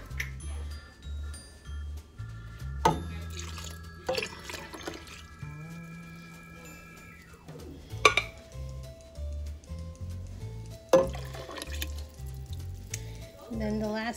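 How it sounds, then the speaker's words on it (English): Water is poured into emptied crushed tomato cans in a home kitchen while making Sunday sauce, giving intermittent splashes and metallic clinks beneath a person talking. "I got water in each of these cans to get the rest of the tomato out"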